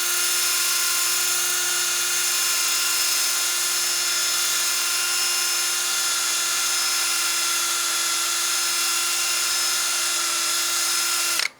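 A wood lathe spins steadily while a wooden bowl is sanded, a constant high whine with a smooth rushing hiss that runs unbroken and then cuts off abruptly at the end.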